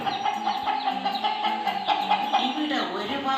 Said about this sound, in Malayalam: അയ്യടാ, നല്ല നാടൻ കോഴിക്കുഞ്ഞുങ്ങൾ.